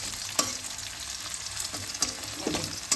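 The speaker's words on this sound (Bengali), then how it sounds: "আলুটা দিয়ে একটু নাড়াচাড়া করে নিয়ে মশলাগুলোর সঙ্গে অ্যাড করবো" Potatoes with onion and spices stirred and frying in a pan for a Bengali fish curry, a steady sizzle broken by a few sharp scraping clicks of the spoon, close and moderately loud with no talking.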